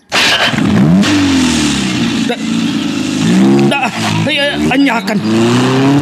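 A car engine cranks and catches, then revs up and holds a steady loud idle with rising and falling pitch, heard close while people talk over it.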